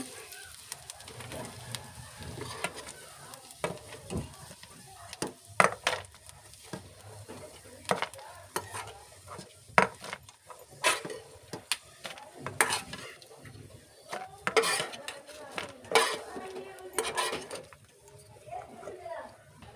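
Roasted almonds and cashews are stirred in a pan and scraped out with a spoon, giving intermittent taps and scrapes with faint sizzling, while someone talks throughout.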